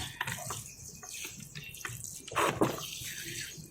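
Water poured from a container directly onto soil around small, freshly transplanted tomato seedlings, splashing and trickling in uneven bursts with a louder gush near the end, close up and with no talking.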